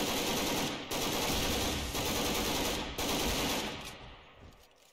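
Dense automatic gunfire from a Garry's Mod battle between SWAT NPCs and Mr X, loud sustained bursts with a brief break around the first and third seconds, thinning out toward the end.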